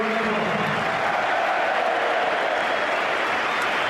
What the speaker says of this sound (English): Applause from he who must be obeyed, reciprocated by the player being replaced